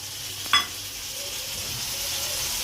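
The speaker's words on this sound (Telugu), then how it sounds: "టమాటాలు అయితే మంచిగా మగ్గుతున్నాయి" Tomatoes simmer with brinjal (eggplant) and chana dal in a pan, a steady soft sizzle with one brief metallic clink near the start and no talk.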